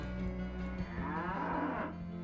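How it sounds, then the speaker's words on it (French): Lowing cattle in the video game Diablo 1, a drawn-out moo rising and falling over a steady game background hum, with no talk over it. "Ouais, c'est bien une vache."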